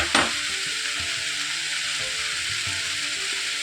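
Mixed vegetables for a sabzi being stirred in a frying pan, a loud, steady close sizzle with a brief clatter at the start and soft scraping strokes underneath, no talking.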